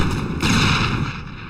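Gunfire in the sci-fi video game Mass Effect, a loud burst of shots and impacts that swells partway through, then trails off, with no talking.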